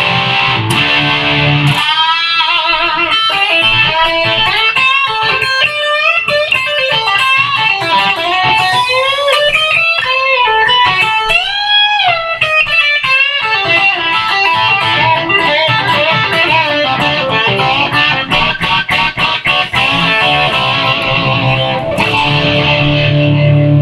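An electric guitar with single-coil pickups through an overdrive pedal cranked to full volume plays a loud, driven tone, picking out melodic lead lines and bends before settling into rhythmic chords.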